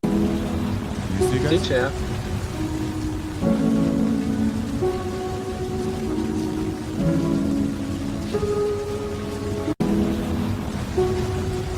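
Rain falling against a glass pane in an AI-generated Sora 2 video, a steady, close patter of drops. It runs under a slow, moody musical backdrop, and a voice briefly speaks over it.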